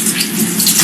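Tap water gushes over fresh vegetables being rinsed, a brief, close, steady hiss of running water.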